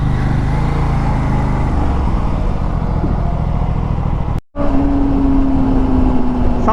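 A superbike's engine and exhaust drone loudly and steadily while riding, with a brief gap partway through and then a rising whine as the engine pulls on.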